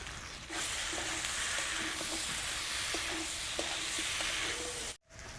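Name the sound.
boiled potatoes and spices being sautéed in a pan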